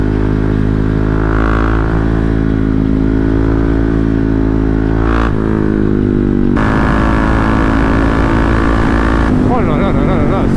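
A motorcycle engine runs steadily close by, a loud, even idle rumble lasting throughout, with someone talking over it.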